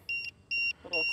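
Three short bursts of high electronic beeping from RC jet electronics on an Eachine F-16 50mm EDF model, evenly spaced and fairly quiet, with a low background hum.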